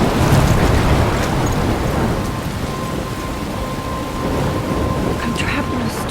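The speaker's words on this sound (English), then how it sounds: "I'm trapped in a storm?" Heavy thunderstorm in the video game Life Is Strange, near a lighthouse, with loud steady pouring rain and a low rumbling roll of thunder that swells and fades.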